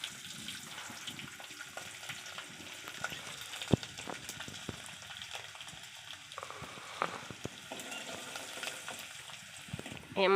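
Whole cumin seeds and asafoetida crackle in hot oil as a faint, uneven sizzle, with scattered small pops and clicks and a quiet kitchen background.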